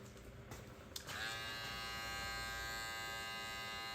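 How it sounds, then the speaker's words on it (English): A Babyliss Pro cordless hair clipper cutting hair during a mid fade, starting up and holding a steady, close electric buzz. "We're gonna go ahead with our Babyliss Pro"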